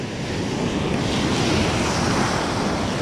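Steady wind blowing at the seashore, a continuous close roar that buffets the microphone, mixed with surf noise and no voices.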